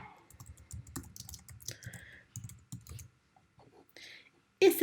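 Text is typed on a computer keyboard in a quiet room, a run of light, close key clicks in short bursts with brief pauses between them.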